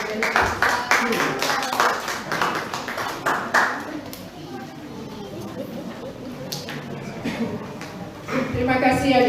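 A church congregation applauds at a Batak New Year celebration in Sumbawa: a burst of rapid clapping, then talk over the fading claps, and a second round of clapping at the end.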